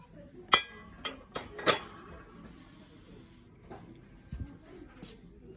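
Several sharp glassy clinks ring out in quick succession as glass ovenware dishes are handled in a shop, then a duller knock of dishes, fairly close and otherwise quiet.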